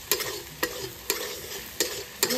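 Spice masala being sautéed in a pan: a soft steady sizzle punctuated by sharp scraping stir strokes at a regular rhythm, about five in quick succession, close and moderately quiet with no voices.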